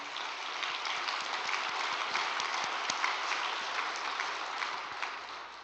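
Audience applause at a religious gathering honouring the True Parents, a steady crackle of many hands clapping that holds evenly throughout without pause.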